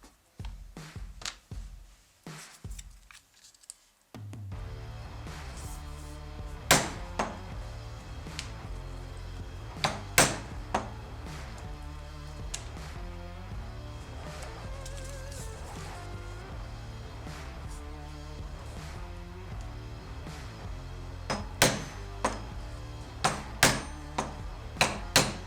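A hole punch is hammered through leather pieces in a workshop, after a brief quiet opening, sharp single strikes ring out over a steady background hum, spaced irregularly, then clustering in quicker bursts toward the end.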